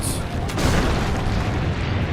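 Cannon fire booms in the video game Assassin's Creed: Brotherhood, a loud, dense rumbling blast filling the scene with continuous low roar and no clear separate shots.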